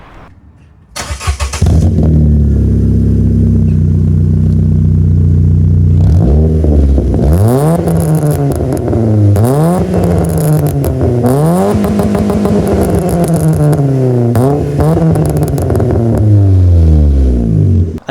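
A Vauxhall Corsa with a 1.2 engine and a Hoffman race tube exhaust starts up loud and close, settles into a rumbling idle, then gets revved in repeated rising and falling blips that hold a raspy, droning exhaust note to the end.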